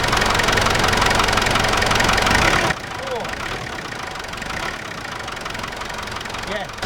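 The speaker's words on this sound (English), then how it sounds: "Yeah, it's the alternator." A car engine idles with a loud, whining alternator that dominates the first few seconds, then the noise drops to a quieter steady engine hum with faint whines and knocks; a person speaks briefly over it.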